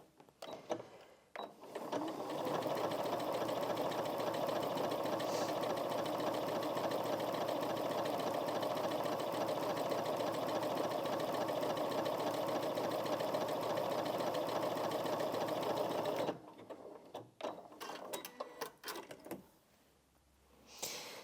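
A Janome MC 6700p sewing machine stitches jersey fabric in one long, steady, even whir of about fourteen seconds, close up, with handling clatter before and after.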